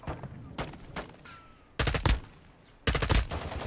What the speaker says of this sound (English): Yeah, they're shooting from in there, look.